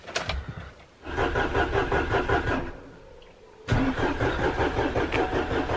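Van engine in Spiti's winter cold cranking hard and struggling to start, with two long grinding starter bursts separated by a brief pause, close and loud, no speech.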